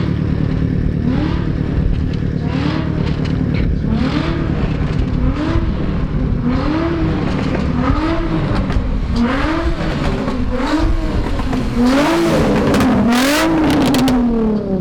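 A Toyota 86 / Subaru BRZ fitted with Tomei headers revs loudly and repeatedly up close, each throttle blip rising and falling in pitch, with rough, raspy exhaust crackle building toward higher revs near the end.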